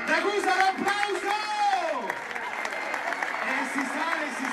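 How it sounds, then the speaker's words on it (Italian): Crowd applause at a trial bike show in Marina di Ragusa, with a patter of clapping beneath a loud, excited announcer's voice that dominates the first couple of seconds. "Ragusa, un applauso!"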